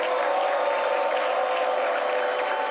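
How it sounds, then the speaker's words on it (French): A studio audience applauds the guests arriving for a televised debate, a steady, dense wash of clapping that holds evenly at full volume from start to finish with no voices rising above it. "On les applaudit très fort."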